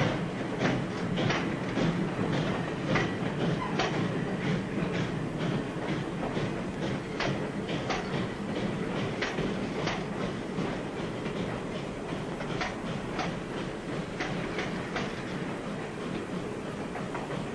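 A steam-era passenger train pulls away in an old 1940 film soundtrack, a dense, loud rumble with a regular clickety-clack of wheels over rail joints running steadily throughout, no voices over it.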